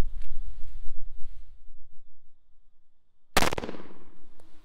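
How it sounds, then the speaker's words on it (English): A single sharp, loud 9mm Federal HST 124-grain gunshot from a compact Glock 43X handgun, fired into ballistic gel behind four layers of heavy clothing from about ten feet, cracks out after a stretch of low background rumble and then rings away. "we fire 2 shots from each handgun into the gel from 10 feet"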